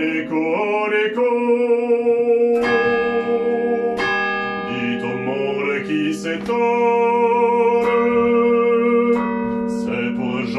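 Carillon church bells ring out a melodic tune, clear and loud, with overlapping struck tones sustaining and layering in steady phrases.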